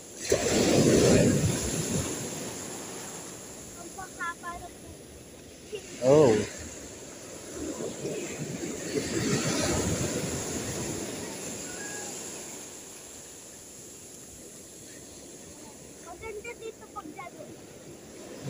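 Ocean surf rolling in on a windy shore at a fishing spot, a steady wash of waves with wind noise, one louder surge near the start, under occasional faint voices.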